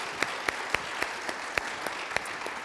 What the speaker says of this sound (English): give them a round of applause for them being up here?